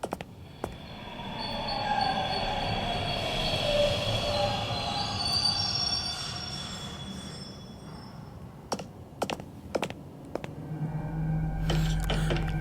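Train in the video game The Ink Souls rolling on rails, with steady rumbling wheels and drawn-out high squeals that rise and fall, then a few sharp clanks and a deeper hum toward the end.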